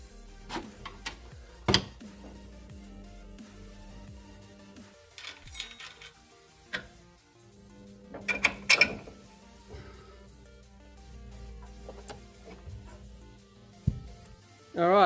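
Loosening the 14mm top nuts on a Toyota Prado shock absorber: sharp metallic clicks and clanks of a wrench or ratchet come in scattered bursts, with low mechanical rumble and a voice speaking briefly near the end.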